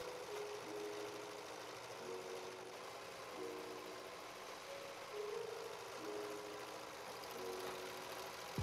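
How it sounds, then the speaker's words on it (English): A serger sewing machine runs along the raw edges of a fabric bodice, giving a steady mechanical whir with short bursts and pauses at a moderate, fairly quiet level. No one talks. "that means that I can finally serge all of the raw edges on my bodice"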